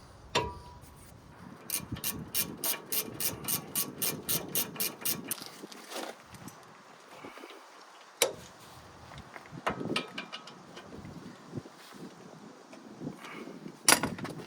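Ratchet clicking on a 2022 Nissan Frontier as the brake caliper bracket is bolted back on during a brake job, a fast run of close, loud clicks early on, then scattered clanks and taps of tools.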